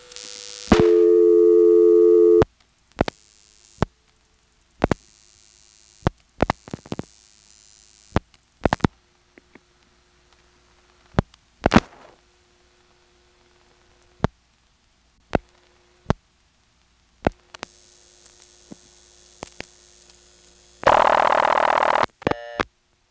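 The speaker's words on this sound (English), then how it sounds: "you can hear normal step noises, but not until the last few digits" Sharp mechanical clicks and clunks of step-by-step telephone exchange switching gear, irregularly spaced, bracketed by loud buzzing tones at the start and end.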